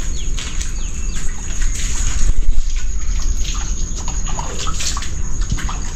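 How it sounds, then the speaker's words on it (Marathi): Heavy monsoon rain on a Konkan morning, loud and steady, pouring and splashing close by with water running, while birds chirp faintly in the background. "मुसळधार पाऊस आहे."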